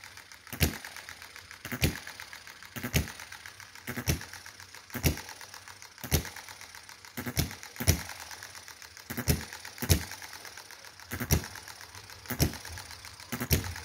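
A Stirlingkit hit and miss model engine runs slowly, firing a loud, crisp knock roughly every second in a steady, slightly uneven rhythm, with a soft mechanical whir between beats, heard close up and alone.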